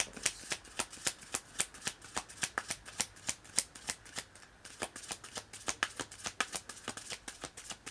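Tarot cards riffled and shuffled by hand in a quiet room, a rapid run of crisp, evenly spaced flicking snaps that continue steadily and close up, with no talk.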